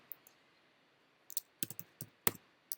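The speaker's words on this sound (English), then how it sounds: "we will type in City of Roanoke" Computer keyboard keys are typed in short, close bursts of crisp clicks, a few scattered taps followed by quicker clusters, against a quiet background with no talking.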